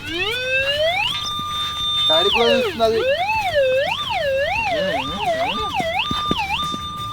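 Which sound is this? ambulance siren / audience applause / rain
ambulance siren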